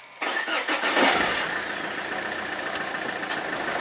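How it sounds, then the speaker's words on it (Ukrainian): An Opel Vectra C car engine cranks briefly, catches, and settles into a steady idle, close and fairly loud. "Двигун завівся, це вже говорить про те, що ключ у нас щитано"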